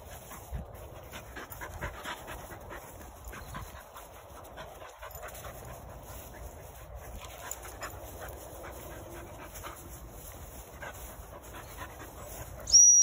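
A gun dog pants rapidly and steadily up close during outdoor training, soft breathy bursts continuing throughout with occasional faint whimpers and a short whistle-like tone near the end.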